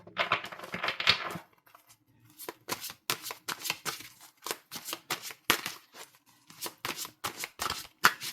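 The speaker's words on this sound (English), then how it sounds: "Let's get a shuffle." Tarot cards being shuffled in quick crisp riffles and taps, close up, with brief pauses between bursts and no talking.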